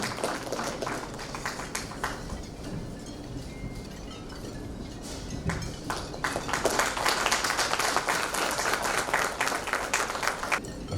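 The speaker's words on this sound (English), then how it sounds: "A huge round of applause for Ramesh Mochi, our curator and moderator" An audience at a design debate in Bhopal applauds, scattered claps building into fuller, sustained clapping that continues through the moment, fairly distant and moderate in loudness.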